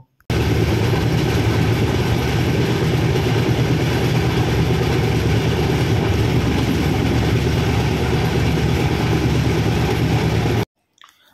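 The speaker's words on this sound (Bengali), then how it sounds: "এই পাশ দিয়ে আমাদের বেরিয়ে যাচ্ছে কিন্তু সাহেবগঞ্জ ইন্টারসিটি এক্সপ্রেস" Loud, steady rumbling roar of the Sahebganj Intercity Express rushing past close by alongside a moving express train, dense and unbroken for about ten seconds before cutting off abruptly.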